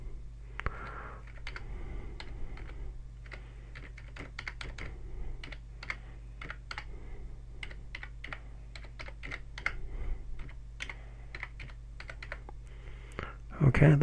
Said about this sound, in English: you just type in your address